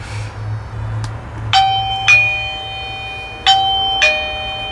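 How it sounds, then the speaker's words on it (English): A video doorbell chime, freshly rewired to a new transformer, rings indoors: two clear two-tone ding-dongs spaced a couple of seconds apart, each bright note ringing out and decaying, loud and close with a faint low hum underneath. "Now we can test if the chime's going to work."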